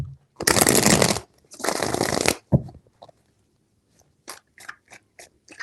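Tarot cards are shuffled close by in two long riffling bursts, followed by a scatter of light taps and flicks as cards are handled, with no talk.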